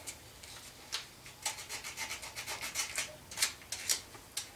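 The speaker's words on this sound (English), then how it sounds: "I'm just going to get these guys nice and shiny so we make sure we got good contact." Sandpaper rubbing the starter relay terminals of a Honda TRX400EX ATV, a rapid series of short, close, dry scratching strokes in an uneven rhythm, with no talk.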